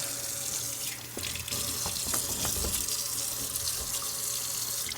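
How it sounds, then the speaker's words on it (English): Tap water runs steadily from an off-grid solar well system being shocked with bleach, a constant close splashing rush with a few clinks and knocks partway through. "The water should start coming out bleach any moment."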